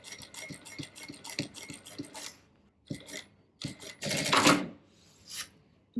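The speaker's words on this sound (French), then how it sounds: "Et je viens coudre ici, je dois m'arrêter" Sewing machine stitching fabric at a sleeve hem opening: rapid mechanical rattling runs that stop and start, with a louder whirring burst near the end, close and without talk.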